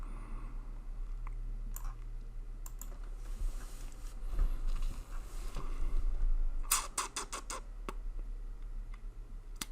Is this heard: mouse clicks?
yes